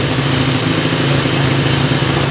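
A motorcycle engine idles nearby, a loud, even, low throbbing hum that holds steady throughout.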